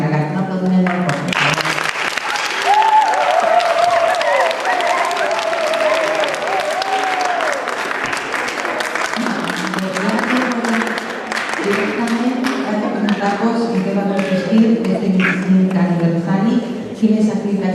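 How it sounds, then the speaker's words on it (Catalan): Loud, sustained applause from an audience at a school theatre showcase honouring the children and teachers, a dense wash of clapping lasting many seconds with voices and a cry or cheer rising above it. "Un aplaudiment molt fort."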